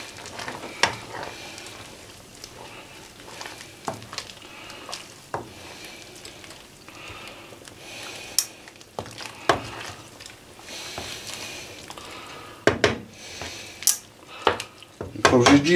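Pork with garlic stirred in a frying pan, a utensil scraping and knocking against the metal in irregular sharp clinks over a steady low sizzle, with some quiet background sound.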